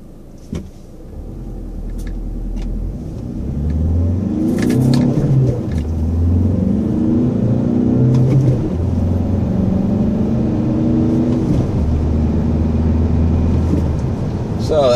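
A 2013 Volkswagen Jetta Sportwagon TDI diesel with a six-speed manual accelerating hard from a stop; the loud engine drone climbs steeply in pitch through the gears, with brief dips at each shift, heard from inside the cabin.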